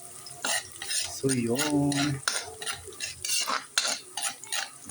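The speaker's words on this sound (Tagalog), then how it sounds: "tara na tayo magluto ng spaghetti sa ating almusal" Spaghetti cooking in a pan for breakfast, with a utensil stirring and scraping against the pan while the food sizzles softly beneath. A person speaks briefly and hums in the middle.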